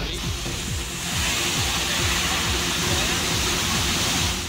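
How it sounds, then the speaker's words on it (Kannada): Balebare waterfall near Hulikal Ghat in Hosanagara, swollen with monsoon rain, pours in a continuous dense roar of rushing water, loud and unbroken throughout. "ಬಾಳೆಬರೆ ಜಲಪಾತ ಮೈದುಂಬಿ ಹರಿತಾ ಕಣ್ಮನ ಸೆಳೆಯುತ್ತಿದೆ"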